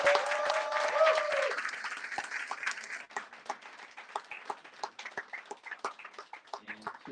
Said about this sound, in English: But let's give Celeste one final round of applause.